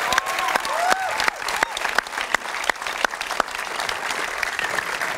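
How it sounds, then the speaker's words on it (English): An audience at a film premiere Q&A bursts into applause, a dense, lively clatter of many hands with sharp individual claps poking through, close and fairly loud, fading slightly toward the end with no talk over it. "Barney Douglas, take a round of applause from this audience."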